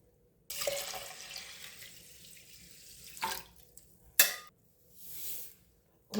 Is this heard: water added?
yes